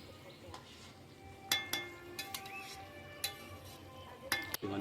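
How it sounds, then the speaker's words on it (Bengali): Pangas fish and potato curry is stirred in a pot with a spoon, giving sparse scraping clinks and knocks against the metal over a quiet background simmer, without talk. "একটু নাড়িয়ে নিলাম।"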